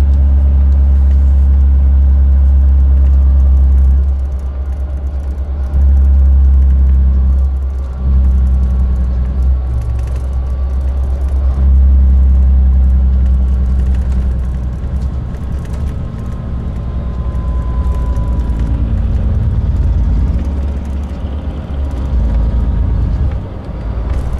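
Heavy truck engine holding back in low gear on a downhill run on an outback road trip to Bourke, a steady loud low rumble throughout with slight swells in revs.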